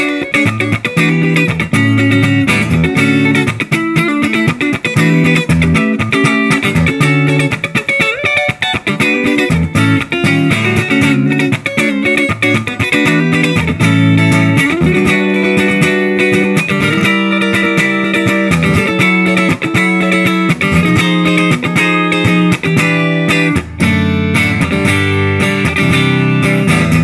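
A Bill Lawrence BL-1 electric guitar on its front pickup plays rhythmic chords and picked notes continuously at a loud level, with no talking.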